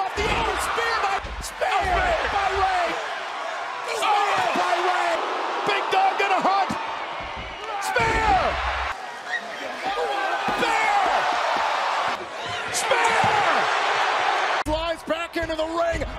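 Spear tackles slam wrestlers down in and around a ring, landing as a few heavy thuds amid loud crowd noise and excited commentators shouting over the action.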